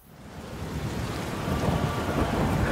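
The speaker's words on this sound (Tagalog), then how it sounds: "Sa pagdaluyon naman ng malakas na hangin at ulan sa lugar" Heavy rain pours down with a low rumble of thunder building beneath it, growing louder and fuller over a few seconds.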